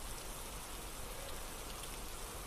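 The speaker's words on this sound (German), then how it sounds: "es regnet schon wieder" Steady rain hisses evenly throughout, a constant wash of falling water with no voices and no breaks.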